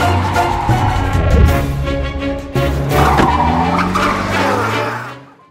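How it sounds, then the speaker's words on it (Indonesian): In a film scene, a car roars up and brakes hard, its tires skidding and squealing loudly for several seconds before the engine noise fades out. "teman Jin-suk yang bernama Paman Chul datang untuk menyelamatkan mereka dengan sebuah mobil"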